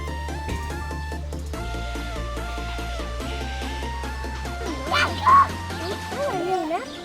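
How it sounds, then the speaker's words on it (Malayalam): Ducks in a park on New Zealand's South Island quack in a few short calls near the middle, sounding moderately close over steady background music. "ഈ പാർക്കിൽ ഒത്തിരി താറാവുകളുണ്ട്."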